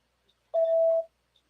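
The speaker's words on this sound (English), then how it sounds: "Sorry, I was just getting a phone call." A single steady electronic phone notification beep, clear and moderately loud, lasting about half a second against near silence.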